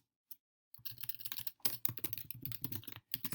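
Fast, steady typing on a computer keyboard, close and fairly quiet. Dense clattering keystrokes run continuously with a couple of brief pauses and no talking over them.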